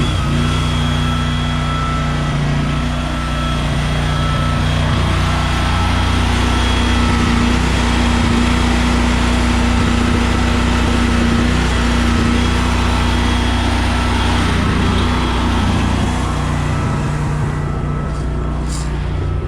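A small gasoline engine with a carburetor idles steadily, a constant close hum with a fixed buzzing tone that holds throughout before a faint shift near the end.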